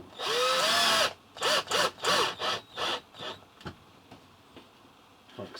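Power drill securing an overhead cupboard inside a camper van, a loud sustained whir with pitch rising as it spins up, followed by a series of short, fading bursts as the screw is driven home.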